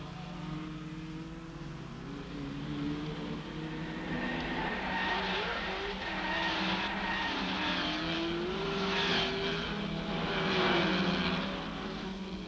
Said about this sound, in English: The big GTs make a splendid spectacle at Rouen.